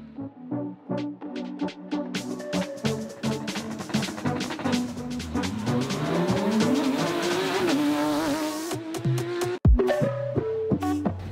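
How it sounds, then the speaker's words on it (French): Porsche 992 rally car tearing through a special stage, engine revving hard through rising and falling gear changes, close and loud, with a sharp jolt near the end. "Il a ainsi pu monter à bord de la Porsche 992 pour un run endiablé."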